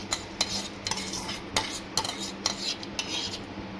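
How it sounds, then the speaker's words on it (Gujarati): Hot rice is stirred into a pot of boiling water with a spoon, giving repeated metallic scrapes and clinks against the pot in an uneven rhythm over a low bubbling background. "હવે આપણે એમાં ભાતને એડ કરી દઈશું"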